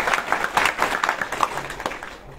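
Devotees at a Mahakumbh chanting gathering in Prayagraj give brief applause, a short burst of clapping that fades out within a couple of seconds.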